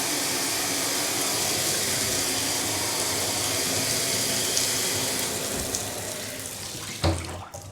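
A bathroom sink fills with water from the tap during a home inspection drain check, a steady near gush that thins toward the end before a brief knock, with no voices.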